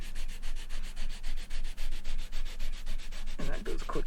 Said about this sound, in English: we can work it over with the sanding block